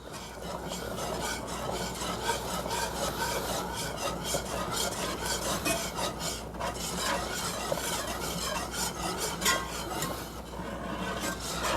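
Pork chop gravy being stirred in a pan as liquid is added bit by bit, a steady close scraping and rasping that runs continuously with light clinks and a faint sizzle beneath.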